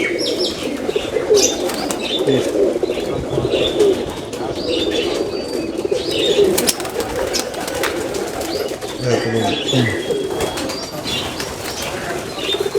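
Sialkoti pigeons coo in low, repeated rolling calls, with chirps and short bursts of flapping wings close by. No one speaks over the birds.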